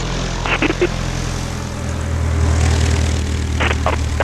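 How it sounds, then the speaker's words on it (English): A small propeller airplane takes off on a short run of about 110 feet, its engine droning loudly and steadily close by and building toward the end, with brief bursts of other noise. "there's our first takeoff, 110"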